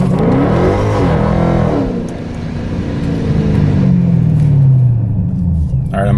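A Procharged Dodge Challenger Scat Pack on drag radials, with a loud, close engine drone that dips and then climbs in pitch as it accelerates, with a voice speaking over it.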